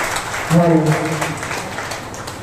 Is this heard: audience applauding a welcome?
yes